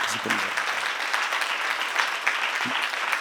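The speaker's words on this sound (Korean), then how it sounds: "박수로 하시기 바랍니다" A church congregation at a seminar applauds, a dense steady wash of many hands clapping throughout, moderately loud, with a faint voice underneath.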